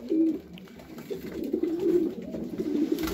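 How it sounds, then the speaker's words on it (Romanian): A male pigeon, of Hans Hirn origin, coos in repeated low rolling phrases close by, with soft background noise and no talking. "Mascul de sus care cântă este original din Hans Hirn"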